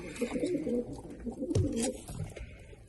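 Tumbler pigeons and their chicks coo in low, throaty bursts close by, overlapping one another with faint background noise.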